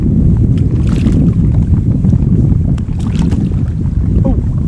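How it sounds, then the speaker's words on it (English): Strong wind roars steadily across the microphone while fishing from a kayak on Lake Davis, a constant low rumble with faint water splashes, loud and unbroken throughout. "Wind came out of nowhere."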